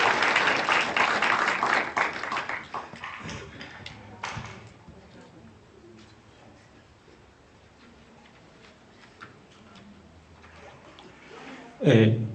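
Audience at a school entrepreneurship day applauds loudly at first, the clapping thinning out and fading to scattered faint taps over several seconds, followed by a sudden louder thump at the end.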